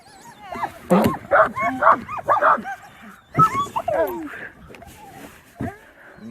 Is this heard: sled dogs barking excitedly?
yes